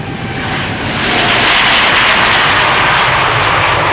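A Boeing 787 Dreamliner jet roars loudly and steadily as it departs Amsterdam Schiphol Airport, the engine noise swelling within the first second and then holding a dense, broadband rumble close by.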